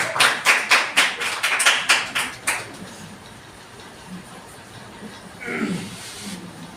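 An audience at a writing workshop claps in a quick, even rhythm of about ten sharp, fairly loud beats, then stops, leaving quiet room tone and a brief voice.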